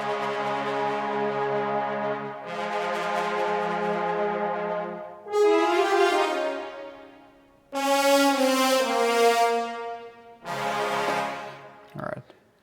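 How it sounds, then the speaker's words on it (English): An orchestral brass section plays the Final Fantasy VII battle theme in loud sustained chords and rising swells, separated by short pauses and ending with a brief sharp hit. "Let's go to the brass."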